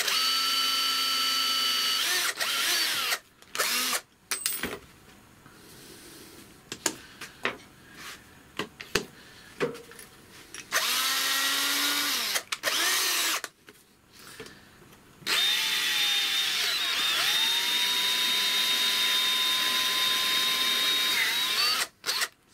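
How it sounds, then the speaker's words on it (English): A power drill bores a pilot hole through a clamped sheet of FR4 G10 fibreglass laminate, its whine sustained in long loud runs broken by short pauses and stop-start bursts. "we'll just do another pilot hole, and I'll make sure the material is clamped down this time."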